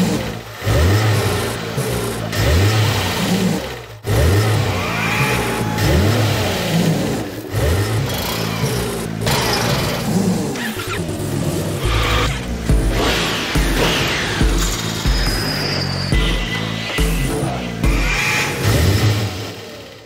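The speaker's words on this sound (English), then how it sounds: "Ladies and gentlemen, start your engine!" Race car engines in a Honda racing simulator game roar and rev continuously and loudly for the whole stretch, with rising and falling pitch as cars accelerate and shift, several engines overlapping at close range with no talk.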